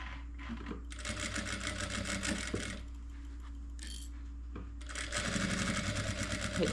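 Sewing machine backstitching at the start of a seam on a small flower-print pouch, close, in several short bursts of rapid stitching separated by brief pauses.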